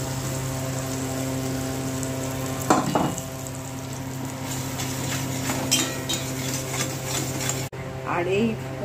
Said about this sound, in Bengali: এই জিরে তেজপাতা আর এই যে জিরে ফোড়ন দিয়ে এই ভাজছি।